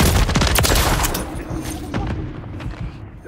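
Rapid gunfire in Call of Duty: Modern Warfare III, a dense burst of loud shots crowding the opening second, then thinner scattered reports trailing off.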